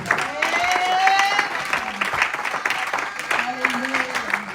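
Congregation applauding during a church service, steady dense clapping sustained throughout, with tonal musical lines and voices mixed in beneath it.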